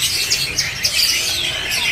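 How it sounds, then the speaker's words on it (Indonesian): Anis cendana songbirds, tame singing birds at a bird kiosk, chirp and whistle in a steady run of bright, close calls over a low background hum. "Di sini juga tersedia nih buat burung anis cendana ya yang sudah gacoran atau jinak ya."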